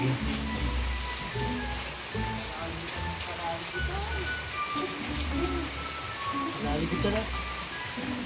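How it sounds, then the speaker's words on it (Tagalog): Steady heavy rain pours down with a dense hiss, while people talk intermittently underneath the downpour. "Grabe talagang ulan, no?"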